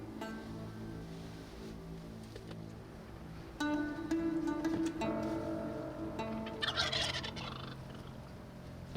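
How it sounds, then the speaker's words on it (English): Wild turkey gobblers gobbling up a hillside, repeated rattling calls at moderate distance over a steady outdoor background, with several birds overlapping. "We can hear some gobbling up top"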